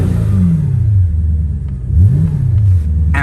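Audi RS5 FSI quattro 444 bhp V8 from 2011 revving through an Audi performance exhaust, a deep close rumble that swells, dips and rises again in rev blips, heard alone.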